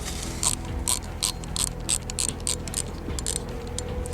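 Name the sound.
Shimano Baitrunner reel central knob clicking as it is tightened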